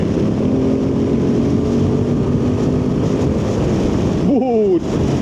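A Royal Enfield Himalayan 450 motorcycle pulls hard under acceleration, a steady loud engine drone mixed with heavy wind roar. The pitch shifts sharply near the end, as at a gear change.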